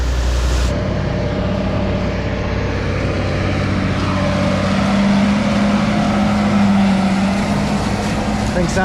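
Harvest truck engine idling with a steady low rumble and drone close by, loud and continuous, with a slight rise in pitch partway through.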